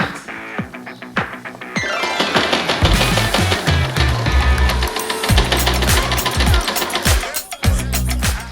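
A sewing machine stitches a fabric strip for a handmade espadrille in rapid mechanical bursts, starting and stopping several times with loud rhythmic needle clatter and sharp clicks between runs.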